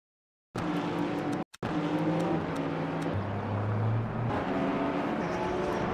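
Race cars running side by side with a Porsche in the Le Mans Ultimate racing game, a continuous loud engine drone with pitch shifts and a brief dropout early on, no talking over it.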